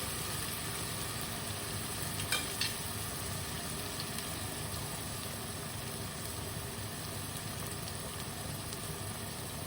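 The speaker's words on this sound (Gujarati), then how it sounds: "1-2 મિનિટ થોડીક એને સાતળી લેવાની છે" Ginger paste and green chili sauté in a pan for a Kathiyawadi kaju gathiya curry, giving a continuous close sizzle over a steady hiss with one or two small clinks, no talking.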